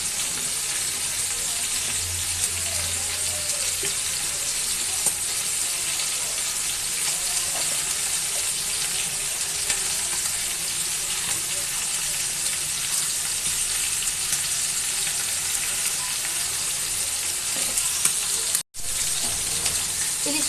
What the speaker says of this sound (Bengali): আজকে ইলিশ মাছ কিন্তু আমি সরিষার তেল দিয়ে ভাজছি